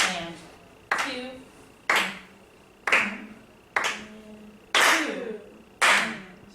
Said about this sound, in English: So I'll count, clap the steady beat.